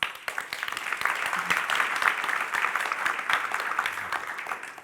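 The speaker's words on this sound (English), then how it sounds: "So let's give them a round of applause." Steady applause from a sizable audience, dense clapping filling the room at an even level throughout.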